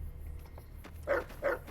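Dog in the video game Fallout New Vegas giving two short, close barks in quick succession after a few faint yips, over a low background hum.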